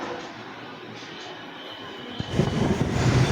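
MEMU passenger train on the Diva to Vasai line: a quiet interior hum, then a low rolling rumble that swells and grows louder toward the end.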